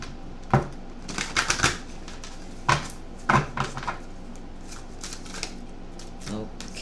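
Oracle guidance cards are shuffled and drawn in a series of quick, papery riffles and flicks, some loud and some soft, spread irregularly across the moment with low room noise in between.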